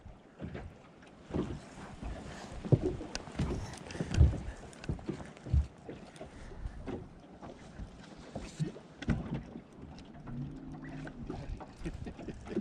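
A trolling motor hums on a fishing boat chasing a hooked striper on windy Lake Lanier in winter, partly buried under gusting wind noise, water slaps and thumps against the hull.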